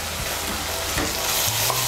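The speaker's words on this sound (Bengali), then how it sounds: "মিশিয়ে নিয়ে মশলাটাকে ভালো করে কষিয়ে নেব।" Spice paste for Katla fish curry sizzles steadily in hot oil as it is sautéed and stirred, a dense close frying hiss with faint scraping, no voices.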